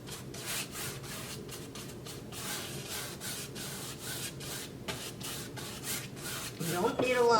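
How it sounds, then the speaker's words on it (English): A blue shop towel rubs across a painted surface, wiping away excess paint in steady, repeated scrubbing strokes that stay close and moderately quiet, rising slightly at the end. "take a shop rag, a blue shop towel, and just take off a little bit of the excess"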